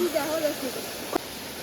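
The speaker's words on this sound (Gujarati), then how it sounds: "તમે જોઈ શકો છો અહીંયા કેટલા બ્યુટીફુલ ઝરણા છે" A mountain stream at Saputara rushes with a steady, broad hiss throughout, with faint voices in the background.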